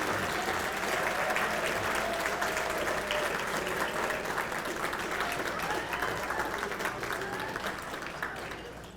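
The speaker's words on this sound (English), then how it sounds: "so please give him a round of applause" Sustained audience applause at a 2021 distinguished alumni hall of fame induction ceremony, honouring a former high school principal, rings out as a dense, even wash of clapping that fades slightly toward the end.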